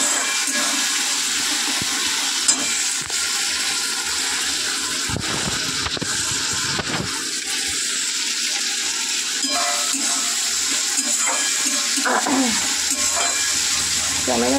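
Hot oil spitting and sizzling in a pan of frying fish in a home kitchen, a steady broadband hiss with scattered crackles that carries on throughout, with no talking.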